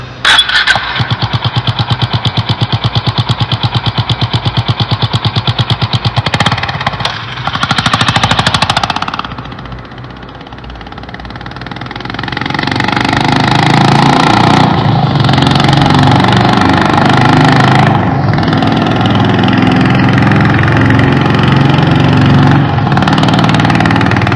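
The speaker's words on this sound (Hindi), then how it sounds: "आपने जो साउंड सुना वो है रेबल 300 का दोस्तों होंडा का मॉडल का साउंड" A Honda Rebel 300 motorcycle engine rattles at idle, then revs and settles into a steady, loud running rumble with rises and falls in throttle, close by.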